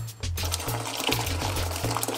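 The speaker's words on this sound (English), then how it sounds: "Put some hot water" Hot water poured into a medium-sized pot in a kitchen, a short continuous splashing flow with a low background hum, heard close up.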